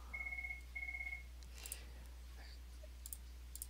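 A few soft, sharp computer mouse clicks while working in Photo Story 3 software, spaced out after a brief repeating electronic tone pattern; quiet and close, with no talking.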